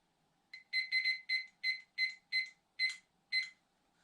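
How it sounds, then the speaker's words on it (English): Kitchen-style timer sounding eight or nine short, bright electronic beeps in quick, slightly uneven bursts, loud and clear against a quiet room with no talking. "I'm going to set this timer now for, let's say, 45 minutes."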